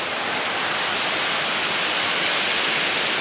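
Heavy rain pours outside a temple in a steady, dense roar that stays loud and unbroken throughout, with no voices.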